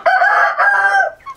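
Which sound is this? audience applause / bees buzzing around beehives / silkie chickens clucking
silkie chickens clucking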